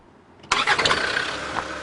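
A Land Rover engine restarts in reverse gear during an off-road hill descent, cranking briefly and catching abruptly, then settling into a steady, fairly loud idle close by, with no talking.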